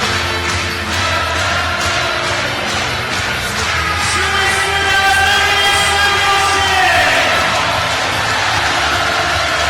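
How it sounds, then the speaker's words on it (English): A raucous, rowdy volleyball crowd roars continuously in the Ergo Arena during a Poland versus Russia World League match, loud sustained cheering with whoops and yells swelling throughout. "it's been another raucous and rowdy crowd in the Ergo Arena tonight."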